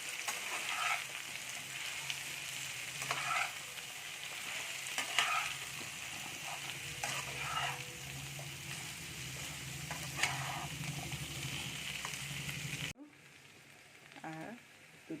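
Vegetables seasoned with salt and cumin fry in a pan, giving a steady mid-level sizzle under periodic scraping stirs, before the sizzle drops to a quieter background near the end.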